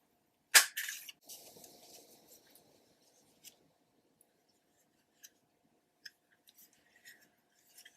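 Scissors cut circles out of book pages, starting with a loud close snip and paper rustle, then a few faint, scattered clicks and snips in a quiet room.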